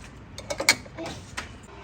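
Short metallic creaks and clicks from a collar being tightened on a coilover for a 2022 Honda Accord 2.0T, a few close, uneven bursts with one sharper snap midway.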